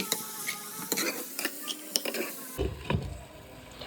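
Cumin seeds stirred in a hot pan, a brief sizzle under scraping strokes of a spoon, close and fairly quiet, the sizzle fading after a few seconds.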